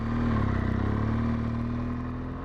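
A BMW R1200GS Adventure motorcycle engine idles with a close, rough pulsing drone that sags and fades slightly as it stalls out.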